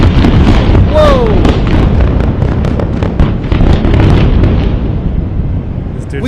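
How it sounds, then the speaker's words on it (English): Huge explosions boom and crackle loudly in a continuous barrage of bursts and pops, with a whistling rise near the start and excited shouting over the blasts. "Huge explosions! Huge explosions!"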